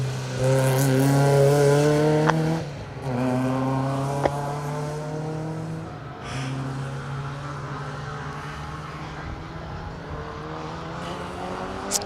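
A Mark 1 Ford Fiesta rally car tears through stage 7 of the Colin Ellmore Memorial Rally, its engine loud and close, rising through the gears in repeated revving pulls before the note fades and thins into the distance.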